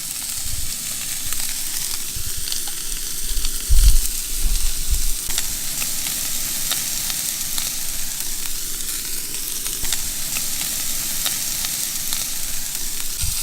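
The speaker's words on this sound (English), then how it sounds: "I've never cooked these breakfast sausages. Just gonna slap these on." Breakfast sausages sizzle in a pan on a small stove inside a van, a loud, continuous close frying hiss holding steady throughout with a few low bumps, no talking.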